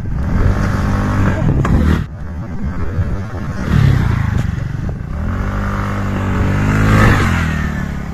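A TVS Ntorq Race XP scooter engine revving hard during a wheelie attempt, loud and close, with the pitch rising and falling across several throttle bursts.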